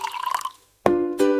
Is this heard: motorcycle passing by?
no